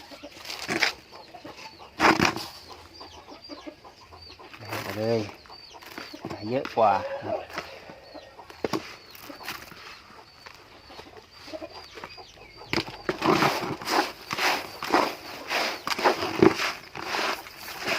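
Chickens cluck and flap around being fed paddy rice, with scattered bird calls and rustling, mostly close by, while someone talks over much of it.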